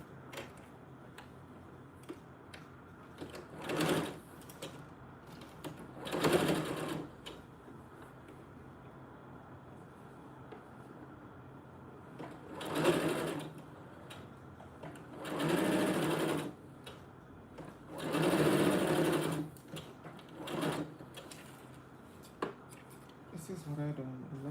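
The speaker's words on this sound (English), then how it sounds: "So I'm gonna stitch this on." A sewing machine stitches a cuff onto doll clothes in several separate runs, each a few seconds long and close by, with quiet pauses between them.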